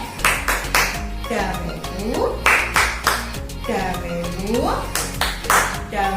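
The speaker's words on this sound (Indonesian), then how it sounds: "Yuk, kita mau bertepuk tangan dulu." Preschool children clap along to a rhythmic peace clapping chant at a Christian kindergarten Christmas celebration, with bursts of claps interleaved with a woman's sung and spoken chant lines over music.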